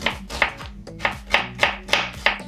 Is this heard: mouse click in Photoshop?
no